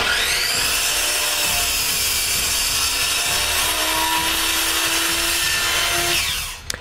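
A chop saw whines loudly and steadily through oak boards cut to length, one continuous close cut winding down at the end with no talking.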